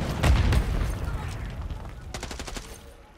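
Call of Duty gunfire, a rapid rattling burst of automatic shots with booming low thuds early on, then thinner repeated cracks fading toward the end, loud and close in a busy game mix.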